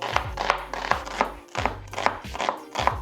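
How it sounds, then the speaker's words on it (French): A knife chopping onions on a board while preparing a beef and sweet potato stew, about ten crisp, evenly spaced cuts in a steady rhythm, close and clear, with no talking. "On va venir du coup couper l'oignon"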